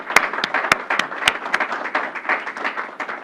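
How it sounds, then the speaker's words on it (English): An indoor audience applauds the governor of New York at a hospital event, a steady dense patter of many hands with a few sharp nearby claps standing out. "Let's please give her a round of applause."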